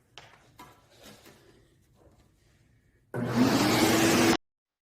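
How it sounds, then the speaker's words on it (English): Carpet extractor cleaning a sofa switches on abruptly after a quiet stretch of small handling noises, then roars loudly and steadily with a whining suction tone for about a second before cutting off. "I'm going to turn on the extractor."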